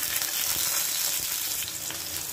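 Tomatoes frying in hot mustard oil in a wok, a loud, dense, continuous sizzle with faint stirring underneath, steady throughout and without speech.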